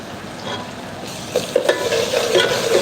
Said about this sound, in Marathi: कांदा त्यात टाकून घेऊ